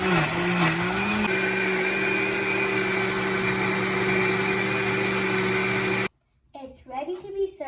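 Kitchen blender grinding fruit into a puree or smoothie, a loud steady whirring drone with a slight pitch dip near the start, running continuously for about six seconds before cutting off to brief chatter.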